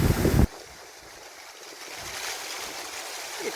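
After a loud burst of gushing water, the Mysore water dance fountain settles into a softer, steady splashing rush, with some wind noise on the microphone.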